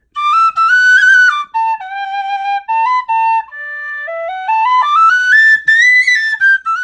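A high D tin whistle made of stabilized flame birch plays a clear, bright melody alone, with sustained notes, quick ornamented runs and brief breath pauses between phrases.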